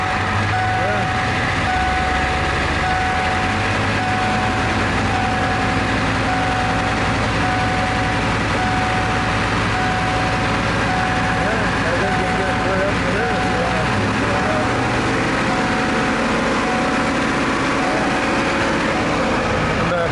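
A cold engine is revved up while its oil pressure is watched, a steady loud mechanical drone with a constant whine that shifts pitch partway through, with faint talk beneath.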